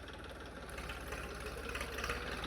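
A New Holland 3032 tractor engine fitted with a new silencer runs at slow idle, a steady low-pitched throb with a regular pulsing rhythm, continuous and fairly close, with no talking.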